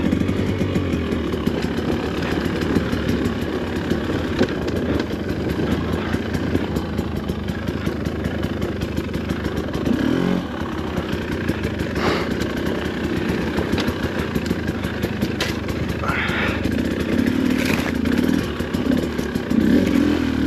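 A 2025 Husqvarna TE 300 Pro dirt bike engine runs close and loud for the whole stretch, a steady buzzing two-stroke drone that rises briefly near the end.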